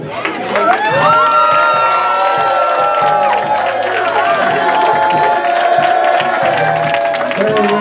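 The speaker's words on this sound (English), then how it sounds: "give a round of applause for the Disciple" An audience at a stage contest bursts into loud cheering and applause, with whoops and shouting voices over continuous clapping throughout.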